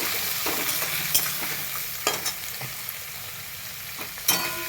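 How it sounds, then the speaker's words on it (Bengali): Onions fry in a pan while a spoon stirs them, a constant close sizzle broken by several sharp scraping knocks of the utensil against the pan, with no voices. "পেঁয়াজটা বেশ লাল লাল করে ভাজা হোক।"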